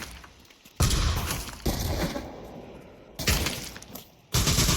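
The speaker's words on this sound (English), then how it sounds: "that nade lands just a little short" In competitive Pavlov VR play, a grenade goes off short of its target, among several heavy bursts of blast and debris-like crashes at irregular intervals, loud and close, with no voices.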